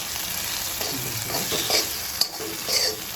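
Fried brain sizzling in a pan as it is stirred with a pinch of coriander powder, steady frying hiss with soft scraping stirs and an occasional sharp clink of the utensil.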